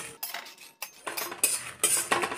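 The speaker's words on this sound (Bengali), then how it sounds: "প্রথমে দিয়ে দেবো শুকনো লঙ্কা। শুকনো লঙ্কা একটু নেড়ে নেব।" Dried red chillies stirred in a hot pan, a metal spoon scraping and clinking against the pan in quick repeated strokes, close and fairly loud.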